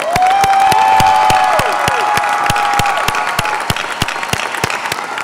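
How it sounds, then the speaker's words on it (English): A crowd at a high school graduation ceremony claps and cheers loudly and steadily, with a few whistles near the start and sharp individual claps standing out close by. "Let's give them a big round of applause."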